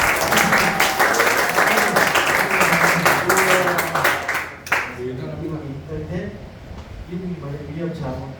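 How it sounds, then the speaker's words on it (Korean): Classroom applause called for by a teacher, a dense wash of clapping that fills the first half and then thins out as talk takes over. "야, 박수."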